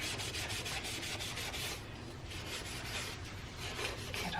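Cloth rubbing oil into a wooden spoon, a close, steady dry rasping swish that runs continuously with a slight dip in the middle, with no talking.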